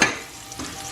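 Seafood stir fry sizzling in a hot pan, a steady close crackle with a brief stronger burst at the start and a second swell midway, no voices.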